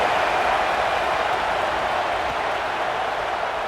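A home crowd in the College Football 27 video game cheers and applauds in a steady, dense roar that holds loud and constant throughout, with no distinct voices standing out.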